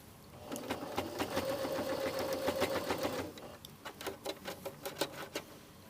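A sewing machine stitches a blouse pocket: a steady, close mechanical run of rapid needle strokes for about three seconds, then a slower string of separate stitches.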